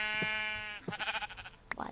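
Sheep bleat in a video game, one long wavering bleat followed by another shorter, shakier call, close and clear with faint game noises at the end.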